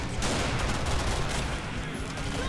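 Dense, loud gunfire from the Killing Floor game on the Rural Road Night map during a modded Hell on Earth match, a continuous rapid barrage of overlapping shots across the whole short stretch.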